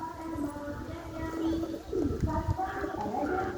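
Pigeons coo softly and repeatedly as they are fed, their low calls mixed with voices talking nearby throughout.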